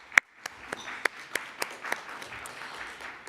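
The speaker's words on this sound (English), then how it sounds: "Round of applause." An audience at a Royal Society of Canada members' event gives a short round of applause, sparse and fairly close claps on a soft crowd background.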